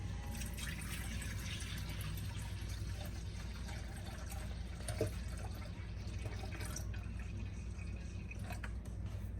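Grape juice pours steadily into a pot, a continuous splashing trickle with faint drips, close by and fairly quiet.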